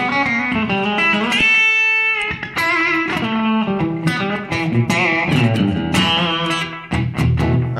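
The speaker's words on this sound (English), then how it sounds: "Here's the echo." An electric guitar plays a melodic run through an echo effect pedal, bright sustained notes trailing repeats into each other, loud and alone with no talking.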